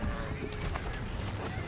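Horse neighing with clip-clop of hooves on the open Venezuelan plains of Los Llanos, cattle ranch country, heard loud and close through steady outdoor noise.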